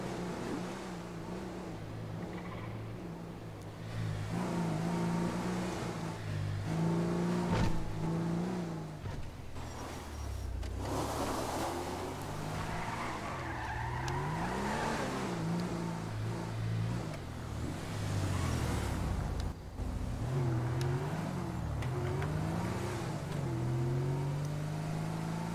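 Car engine droning and shifting pitch as a vehicle drives in GTA V Online, steady and fairly loud throughout with rising and falling revs, no talk over it.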